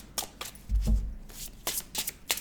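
Tarot cards shuffled by hand ahead of a reading, a quiet run of soft riffling bursts with a brief thumping knock near the middle, close and alone without talk.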